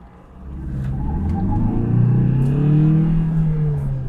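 A Tata Harrier SUV engine rises steadily in pitch as it accelerates, a close, continuous growl that builds and holds near its peak.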